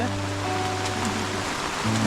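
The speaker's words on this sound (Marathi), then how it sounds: "इकडे पाऊस चालू आहे जोरदार" Heavy rain pours steadily outdoors on a green hillside in the Konkan countryside, a dense continuous hiss, with a low engine hum running underneath.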